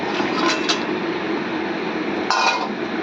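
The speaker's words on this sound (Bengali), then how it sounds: "একদম ফুটে গেছে, এখন মাছটা দিয়ে দিচ্ছি।" Katla fish head, boal fish and fish roe go into a pan of boiling spiced oil with green chilli, giving a steady loud sizzle and spatter with a few faint metallic clinks.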